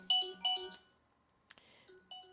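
A telephone rings with a melodic electronic ringtone, a few bright chiming bursts close together, then a pause, a click, and the tune starting again, with no talking.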